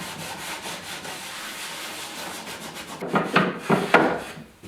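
Scotch-Brite pad scrubbing an old wooden desk, a soft continuous close rubbing that turns into several louder, quicker back-and-forth strokes near the end.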